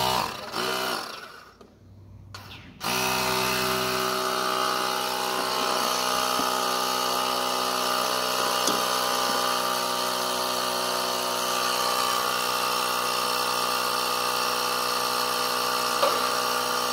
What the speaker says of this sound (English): We'll go ahead and hook up this air pump and get it pumping.